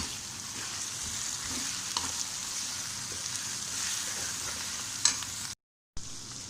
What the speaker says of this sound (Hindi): टमाटर हमारे फ्राई हो चुके हैं, गल चुके हैं।